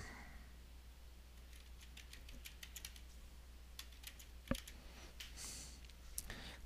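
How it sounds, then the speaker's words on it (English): Quiet, irregular clicking of keys on a computer keyboard as a domain name is typed into an Outlook 365 blocking setting, faint and close, with a few sharper taps near the end and no talking. "Now type in the domain name."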